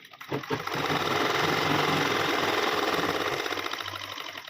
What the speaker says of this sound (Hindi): इस तरह से धागों को इधर कर देंगे और इस तरह से लगा देंगे सिलाई